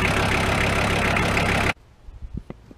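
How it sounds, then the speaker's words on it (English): A VW T4 Transporter van engine idles with a steady, dense rumble, then cuts off abruptly, leaving quiet with a few faint clicks. "Let it idle for a bit and then switch the engine off"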